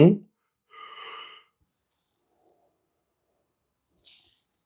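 A person yawns with a drawn-out, airy breath, preceded by a brief low vocal sound and followed later by a short faint noise in otherwise quiet surroundings.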